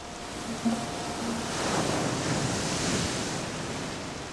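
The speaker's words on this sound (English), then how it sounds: "A powerful tropical cyclone strikes Bangladesh just north of Chittagong. Winds reach a punishing 250 kilometers per hour." Tropical cyclone striking Bangladesh just north of Chittagong, with winds of 250 kilometers per hour and surging waves: a steady, close, roaring wash of wind and surf that swells slightly in the middle and never lets up.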